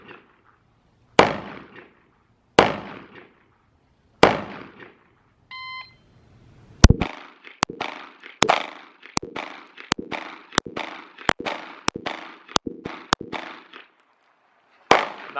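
A Glock 19 Gen 5 pistol fired at a shooting range: a few spaced shots first, a shot timer beep, then a rapid, loud string of about a dozen close gunshots in quick succession.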